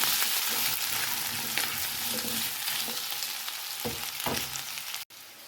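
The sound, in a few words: ginger chili paste frying in pan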